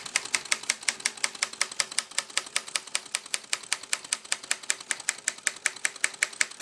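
Rapid, evenly spaced mechanical clicks from the carriage return of a 1960 Royal Model FP typewriter, crisp and close, repeating steadily with a faint hum underneath.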